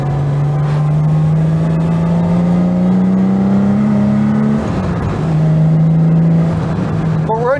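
Jaguar E-Type engine revving to around 4,000 rpm, a loud close drone holding a steady rising tone, then briefly dropping and settling back before a fresh climb at the end.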